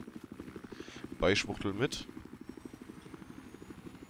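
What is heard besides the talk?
helicopter in the video game Battlefield 4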